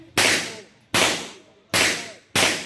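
Four loud, sharp firearm shots ring out at a firing range, evenly spaced under a second apart, each a close, cracking report with a short echoing decay.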